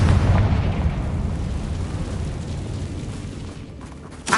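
A Confringo blasting spell explodes in Hogwarts Legacy: a loud, booming burst that rumbles and slowly fades over a few seconds, ending with a short sharp pop.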